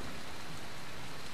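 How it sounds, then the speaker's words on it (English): Steady, dense rain falls in the video game Dying Light: The Following, a continuous even hiss with no voices. "Something about the rain just makes it more peaceful."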